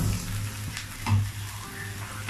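Eggs fry in a pan with a soft, continuous sizzle and faint crackle throughout, a steady low cooking hiss with no talking over it.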